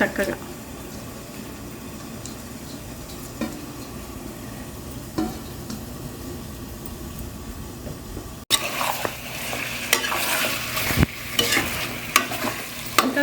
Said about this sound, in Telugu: కొంచెం వేగాలి ఇది.